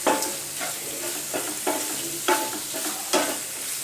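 A spoon scrapes and stirs chilli chicken with lemon juice in a hot pan, with rhythmic strokes about every second over a steady sizzle of frying, close and clear without talk.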